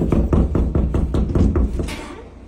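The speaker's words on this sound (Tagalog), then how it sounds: "May kumakatok." Close, heavy knocking on a door: a rapid, steady series of about ten solid thuds that fades slightly toward the end.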